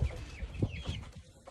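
Local farm chickens scavenging give a few close, low clucks and soft murmuring calls over a short stretch, with quiet ground noise around them.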